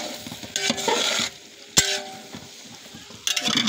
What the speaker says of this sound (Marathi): सगळे मसाला असा परतून घ्यायचा, जोपर्यंत तेल सुटत नाही सगळ्या मसाल्याला तोपर्यंत पकवायचे